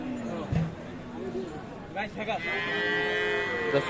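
A Friesian cow with her calf lows at the Aftabganj cattle market in Dinajpur, several drawn-out moos close by, heard under steady market chatter with people talking nearby.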